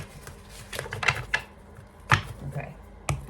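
Tarot cards being shuffled by hand, a series of soft, quick riffling and snapping bursts close by, uneven and fairly quiet.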